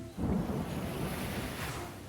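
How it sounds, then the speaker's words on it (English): Storm waves at sea in the video game Stella Sora roar in a dense, rushing wash, swelling sharply at the start and then holding steady and broad, with no talking. "A massive wave slams into the hull."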